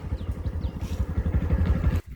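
A motorcycle carries riders along a mountain route toward Kedarnath, its engine thumping in a rapid, uneven rhythm up close before cutting off abruptly near the end.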